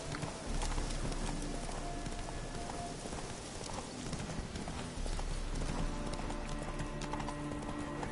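Horse galloping in The Witcher 3 video game, a steady rapid clip-clop of hooves running continuously against a busy game soundscape, close and fairly quiet.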